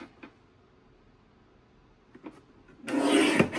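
A paper trimmer slices through cardstock in one quick, close rasping pass near the end, preceded by a few faint taps and shuffles of handling.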